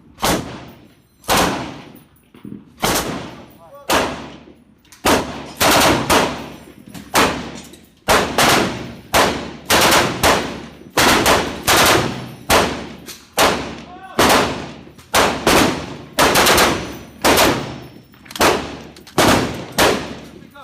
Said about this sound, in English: Michel Rachad, you can start shooting.